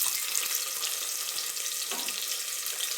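Onion sizzles steadily in hot oil in a pan for a village-style masale bhat, a continuous close frying hiss with a faint clink.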